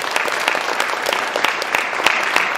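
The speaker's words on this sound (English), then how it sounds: "let's give them a round of applause to welcome them" A room full of people claps in a steady, dense wave of applause welcoming guests at a formal event, continuous and close throughout with no break.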